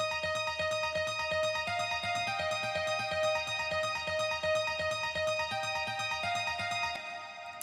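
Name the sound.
Nexus nylon guitar arpeggio with reverb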